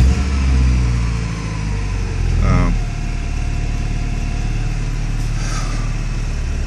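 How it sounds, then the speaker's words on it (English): A 1987 Porsche 944 idles close by with a steady, low, even engine rumble. A voice speaks briefly partway through, and a faint higher tone sounds near the end. "here's a video of the 1987 Porsche 944 running"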